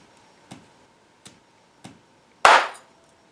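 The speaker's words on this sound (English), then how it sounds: "just a couple of gentle taps with the hammer" Broken light bulbs wrapped in a rag get gently struck with a hammer: three light, evenly spaced taps, then a louder crunching crack of glass, all close with no talking.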